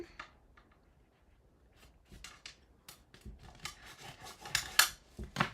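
Designer cardstock is scored and folded for a handmade card, making a string of close, crisp scraping, rubbing and creasing sounds that grow busier toward the end, with no talking.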